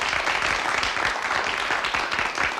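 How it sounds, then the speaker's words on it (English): A played applause sound effect: continuous crowd applause, dense steady clapping filling the whole stretch at a fairly loud, even level with no talking. "Please, Katie, could we play applause for Lisa Petrillo?"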